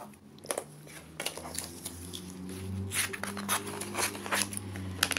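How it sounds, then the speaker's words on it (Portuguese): Scissors snip through folded magazine paper in a series of close, crisp, irregular cuts, with light rustling and handling noises between them. "Eu vou cortar dois desse aqui, vou deixar dobrada a revista"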